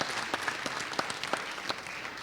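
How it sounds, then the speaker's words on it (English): An audience claps at a performing arts center show, a short burst of scattered, fairly sparse applause from a modest crowd heard close with no voices over it. "Lisa Dahl, one more round of applause."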